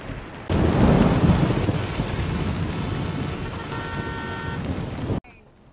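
A severe storm over Florida bursts in suddenly as a heavy downpour with rolling thunder, a loud dense roar of rain that stays steady for several seconds before cutting off abruptly.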